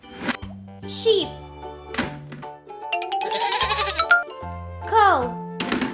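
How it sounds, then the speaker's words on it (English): A toy sheep gives out recorded bleats set over a repeating electronic jingle, with a child-like voice between the calls, all close and fairly loud. "Sheep,"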